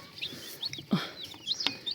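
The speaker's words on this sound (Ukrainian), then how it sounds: "Так, курки голошейки." Naked neck chickens cluck and chirp close by in short, scattered bursts, with a faint background murmur.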